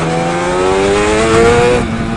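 A Targa Twin 275 two-stroke motorcycle accelerates hard close by, its loud, rising buzzy exhaust note climbing through the revs before it drops briefly at a gear change.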